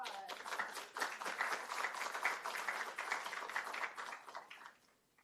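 Applause and scattered clapping for a presenter at an aquaculture workshop, a steady mid-level wash of claps that fades out over the last second.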